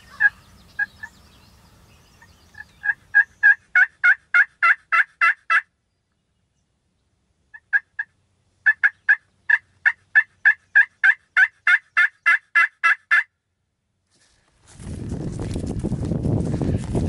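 A wild turkey gobbles from its roost in repeated quick-fire bursts, a few short early calls, then long rattling runs separated by pauses, clear and fairly close, before a broad rushing noise takes over at the end.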